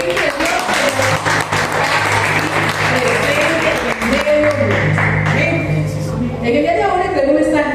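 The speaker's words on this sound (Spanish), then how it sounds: "Vamos a darle un fuerte aplauso al Espíritu de Dios." A church congregation at an evening service gives loud applause, steady dense clapping with musical tones sustained underneath and voices mixed in before the sound thins out near the end.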